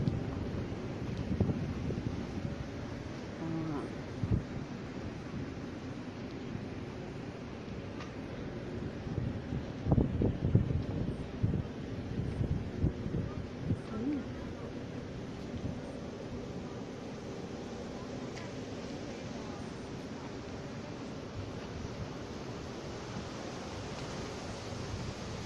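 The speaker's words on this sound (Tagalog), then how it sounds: "Lakas ng hangin." Strong wind gusts roar into the microphone outdoors while climbing a hill at a water museum in Taiwan, a continuous low rumbling that swells briefly midway and carries no speech.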